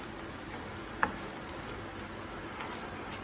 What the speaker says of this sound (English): As you can see, my garlic, my hazelnuts are also toasting in the butter.